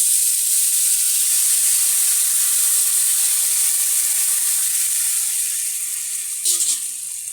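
Water hits a hot pan of drumstick stems with a steady, loud, close sizzling hiss that fades slightly toward the end, with no talk.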